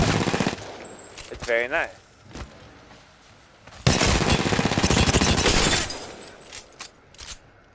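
Rapid pistol fire from a video game weapon fitted with a barrel stabilizer comes in loud bursts, with a long sustained volley in the middle and shorter ones at the start and end, while someone speaks briefly between shots.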